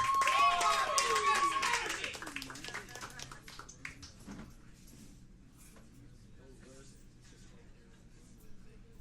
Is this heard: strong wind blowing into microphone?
no